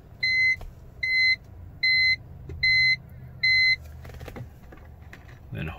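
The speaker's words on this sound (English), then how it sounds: "Turn the ignition on." Gauge cluster of a 2002 BMW E46 3 Series chiming as the ignition switches on, five evenly spaced electronic beeps over a low idle hum, followed by faint handling noises.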